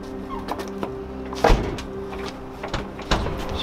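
A door is shut and secured at the end of an eviction, heard as a few knocks and thuds with one louder bang in the middle, set against a room's low hum.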